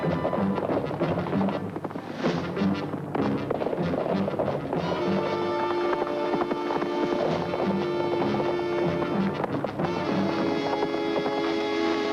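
Rhythmic hoofbeats of a horse galloping over a continuous musical score, steady and fairly loud throughout.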